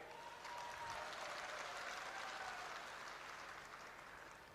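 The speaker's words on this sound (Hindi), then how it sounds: "अभी ताली बजाई है" A crowd at an election rally breaks into sustained applause, a dense wash of clapping that swells quickly and holds steady, heard from a distance with a faint voice over it.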